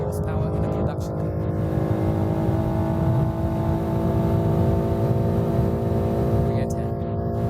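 A 680-horsepower production car cruises at high speed on the Autobahn with a loud, steady engine drone and wind roar from inside the cabin. A person talks over it briefly.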